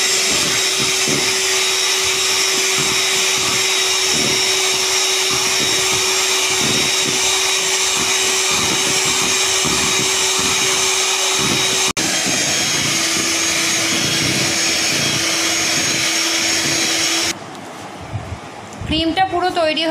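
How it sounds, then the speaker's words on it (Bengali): Electric blender whipping two cups of chilled cream for a Black Forest cake, a loud continuous motor whine with a steady hum, briefly interrupted near the end before the sound drops away. "এবার এটাকে ব্লেন্ডারে ভালো করে ঘুরিয়ে নেব।"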